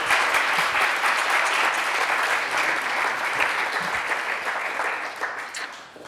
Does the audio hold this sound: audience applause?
yes